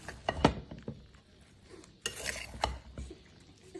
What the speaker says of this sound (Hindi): चले जी हिलाएं